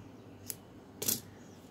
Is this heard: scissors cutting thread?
yes